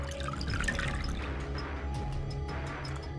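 Liquid pours out of a glass in the Zero Escape video game, giving a brief splashing, dripping trickle over a low droning background.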